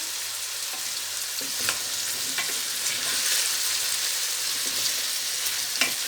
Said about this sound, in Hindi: पहले हम ये लहसुन भी डाल के और आलू को अच्छी तरह फ्राई करेंगे